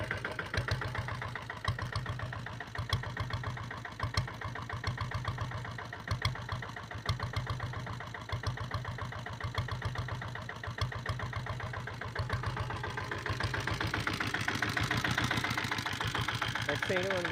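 A 2000 Taurus motorcycle engine idles close by after a self start, a steady low thumping beat that carries on evenly, with someone talking faintly over it.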